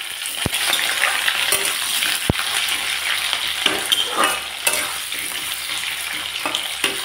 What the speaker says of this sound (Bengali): দিয়ে দিচ্ছি আলুগুলোকে এখন আমি লাল লাল করে ভেজে নেব।